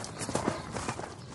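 Horse hooves clip-clopping at a walk, a few soft irregular knocks over a low background hiss.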